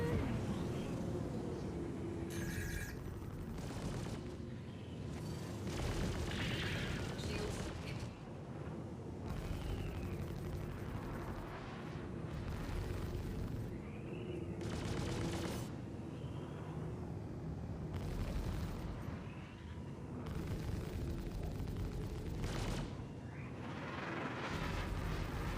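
Ship gunfire in the space game Star Citizen during a strafing run, heard as repeated loud, booming bursts over a constant roar of engine noise.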